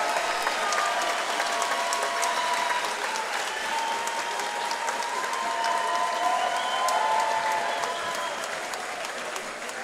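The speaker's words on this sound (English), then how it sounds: "the fans are going crazy here" Basketball fans in an arena at a U17 Canadian national championship game cheering and clapping loudly, a dense, continuous roar with whistles and shouts that holds steady for ten seconds and eases slightly at the end.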